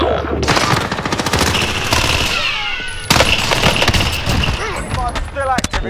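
Video game gunfire played on a PS5 with a paddle controller: dense, near automatic fire running almost throughout, with sharp individual shots and a louder burst midway.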